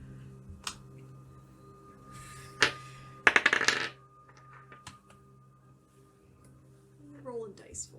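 Dice clatter across a table during a Dungeons & Dragons tabletop session: a sharp tap, then a busier rattling burst lasting about half a second, close and fairly loud, with faint voices in the background.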